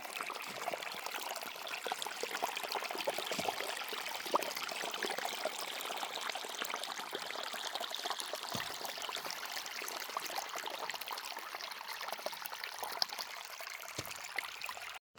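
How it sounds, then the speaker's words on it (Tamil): A stream flows beside paddy fields near Vattakachchi, a soft, steady rush and trickle of water that runs unbroken throughout with no voices. "தண்ணி ஒரு சத்தத்தை பாருங்க."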